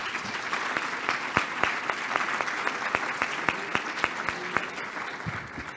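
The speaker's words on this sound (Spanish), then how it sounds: "Lo recibimos con un fuerte aplauso, por favor" An audience at a national public budget seminar welcomes a speaker with sustained applause, a dense, even wash of clapping with a few sharper nearby claps standing out.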